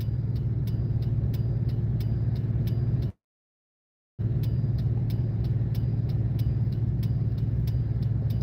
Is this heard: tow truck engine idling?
yes